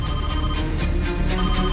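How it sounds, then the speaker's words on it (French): A telephone rings at a French gendarmerie station in 2006, a loud, continuous electronic bell trilling in quick, even pulses throughout, with no one speaking. "le téléphone de la gendarmerie retentit"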